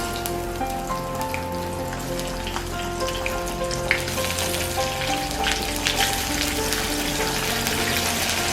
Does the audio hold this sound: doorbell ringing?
no